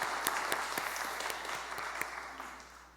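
Church congregation applauding together on a Thanksgiving Sunday service, a dense steady wash of clapping with a few sharper claps standing out, fading slightly toward the end.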